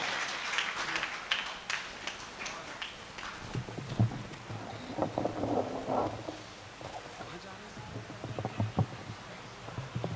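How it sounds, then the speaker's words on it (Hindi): An audience at a Hindi comic poetry event claps for the poet. The applause is faint and distant, with scattered claps that rise and fall, and some murmuring and voices around it. "मैं चाहता हूं एक बार ताली आप बजाएंगे"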